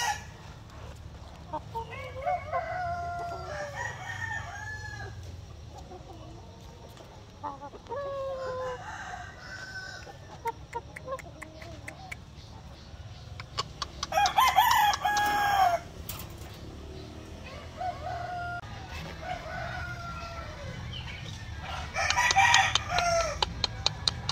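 Gamecock roosters and a stag from a white kelso crossed with asil crow repeatedly on a farm, several loud crows spaced through the scene with clucking fowl around and someone speaking at times.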